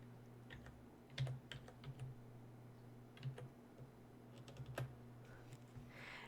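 Typing on a computer keyboard, quiet irregular key clicks in short bursts with pauses between, close but faint over a low steady hum, with no talking.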